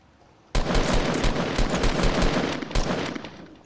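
Rapid automatic gunfire from a player's weapon in the Fortnite video game, a loud sustained burst of shots that starts abruptly and carries on without pause for about three seconds.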